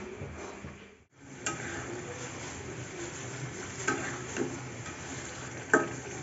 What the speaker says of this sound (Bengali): এদিকে মাংসটা কষানো হয়ে যাচ্ছে